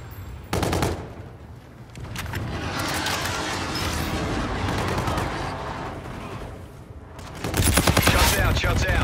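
Rapid bursts of automatic gunfire from a gun run in Call of Duty Infinite Warfare during a team deathmatch on Precinct, loud and close, with heavy sustained firing in the middle and sharp volleys near the start and end.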